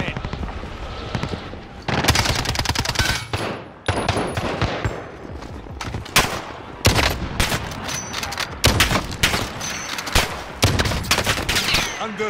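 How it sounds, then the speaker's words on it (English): Sustained gunfire from the Call of Duty Modern Warfare video game, with loud bursts of automatic fire and repeated single shots crackling near and far for over ten seconds, while game radio voices sound underneath. "under direct fire."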